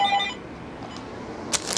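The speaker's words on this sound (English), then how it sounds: "Phone ringing off the hook." A telephone rings off the hook indoors, with a short electronic ring at the start and brief bright bursts near the end, faint against room noise.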